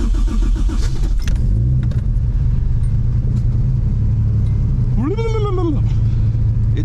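A Nissan 240 with a 1JZ engine drives past with a low, steady rumble close by, and a brief rising then falling whine breaks through near the end.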